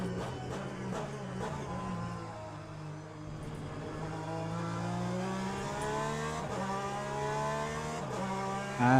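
Race car engine in Le Mans Ultimate revving hard under a steady, loud drone as the tyres spin up, with rising and falling pitch through gear changes and a sharp burst at the end.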